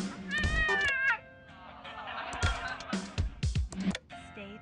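A cat meows repeatedly on a TV show inside the Thimbleweed Park video game, loud drawn-out cries followed by shorter choppy yowls, with other sound effects mixed in.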